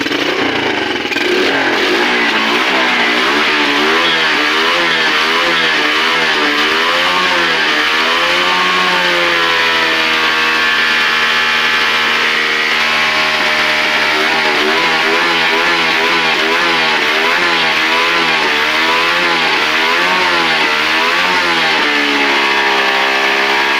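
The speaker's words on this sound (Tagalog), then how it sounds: "Ito, papabiritin ulit natin." A Yamaha Vega Force motorcycle engine with oil coming out of the breather hose revs loudly and repeatedly, pitch rising and falling in waves, close to the microphone throughout.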